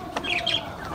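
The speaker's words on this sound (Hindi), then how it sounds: "फीमेल कबूतर भी आ गई हैं" Soft pigeon cooing and calls over a low background hum, with a brief fluttering burst; close by and fairly quiet.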